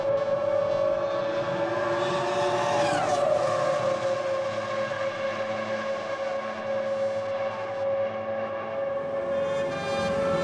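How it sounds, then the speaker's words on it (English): Ferrari F1 Clienti race cars lap the track at Monza, their engines wailing loudly and steadily, with one car sweeping past in a rising and falling pitch. "the audio backdrop is of some F1 Clienti cars out on track"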